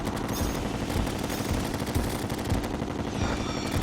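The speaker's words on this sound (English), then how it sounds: "I can't hear myself think over this weapon." Rapid, dense weapon fire in the video game Terraria, a continuous loud stream of shots with no pauses, heard alone without talking.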